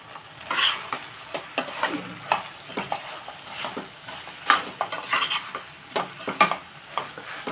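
A tomato curry cooks in a pan while a spoon stirs it, giving repeated scraping clinks and light sizzling. The bursts are close, fairly quiet and irregular, and no one speaks over them.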